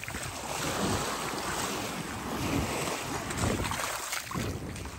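Waves wash onto a beach in Sardinia at sunset, a steady broadband surf that swells and eases over a few seconds, mixed with wind buffeting the microphone and no voices.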